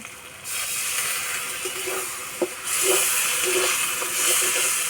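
Water poured into hot frying masala with chili powder sets off a sudden steamy hiss that swells and stays loud, with faint clinks and stirring underneath.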